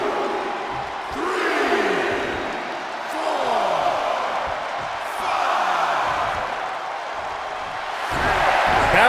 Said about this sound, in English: The crowd seems to be behind Randy Orton here.